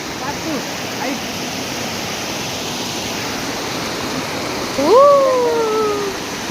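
Water flows steadily at Sai Tekadi, a broad, constant rushing like a small waterfall, with a brief voice or call rising over it near the end.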